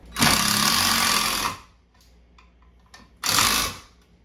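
A power tool whirs loudly for over a second, pauses with faint clicks, then bursts again briefly, like an impact driver sinking screws in two runs while building out a wall cabinet's corners.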